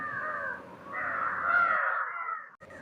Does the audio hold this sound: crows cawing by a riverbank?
yes